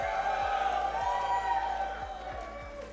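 A crowd at an esports grand final, a VR game tournament at a convention, cheers and whoops in a steady loud roar for the full stretch, with an amplified announcer voice mixed in.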